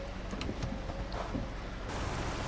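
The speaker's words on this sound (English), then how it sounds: "Let's go jump out into that nice little rain" Steady rain pours down in Euro Truck Simulator 2, a dense constant wash of drops hitting surfaces around a parked truck, with a brief shift in tone near the end and no voices.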